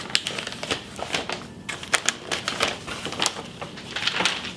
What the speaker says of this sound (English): I'm going to fold it back on the blue line